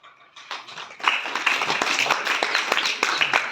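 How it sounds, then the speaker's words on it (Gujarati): Students and guests applauding at a school farewell for eighth-standard pupils, a few claps at first swelling into steady crowd clapping that carries on near and fairly loud. "જોરદાર તાળીઓ."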